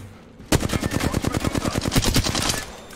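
Rapid automatic gunfire from the video game Apex Legends erupts suddenly in a sustained burst of evenly spaced, loud shots lasting about two seconds before easing off.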